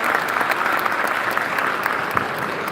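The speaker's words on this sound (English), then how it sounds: "A round of applause for our audience." Audience applause fills a summit panel session at the Economy Middle East Summit 2025, a dense, steady clatter of many hands clapping close by and loud, with no pause throughout.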